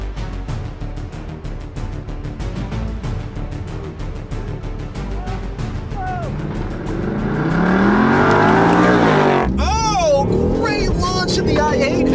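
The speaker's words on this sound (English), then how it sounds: "we ran this car up against our brand new Ford Mustang GT on the quarter mile strip we have that we use" A BMW i8 drag races a Ford Mustang GT down a rough, unprepped quarter-mile strip, engines droning steadily before building to a louder surge and hard shift, with voices talking over the cars throughout.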